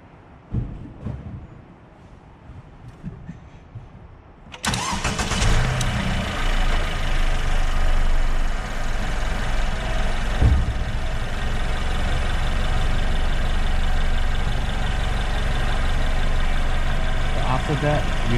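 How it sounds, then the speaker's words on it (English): A car engine cranks and catches at about 4.5 seconds during a battery cranking test, then settles into a steady, loud idle that runs to the end. Quieter background noise precedes the start. "you need to start the engine"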